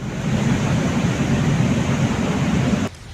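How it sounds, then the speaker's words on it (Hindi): A flash flood torrent pours down from the mountains through a drainage channel, a loud, dense roar of rushing water that stops abruptly just before the end. "पानी का शोर डराने वाला है"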